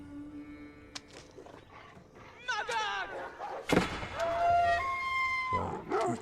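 Wolves in Age of Empires IV, in a Delhi versus Jeanne d'Arc ranked match on Hidden Valley, give rising and falling howls that overlap with other game effects and some clicks, moderately loud.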